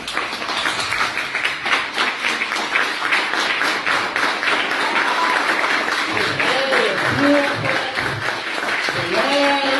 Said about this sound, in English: I want everybody to stand up and give this young lady a round of applause